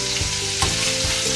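Chicken browning in a hot frying pan for spicy chicken and bacon pasta gives off a steady, close sizzle and crackle that carries on alone throughout.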